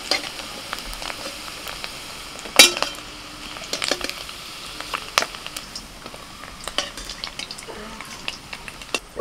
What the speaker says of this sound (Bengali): পনিরগুলো এরকম হালকা বাদামি করে ভেজে তুলে নিচ্ছি